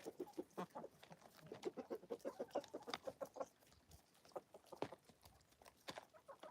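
Chickens cluck in a steady, rapid run of short calls, a flock close by and fairly quiet, with a few sharper squawks toward the end and no talk.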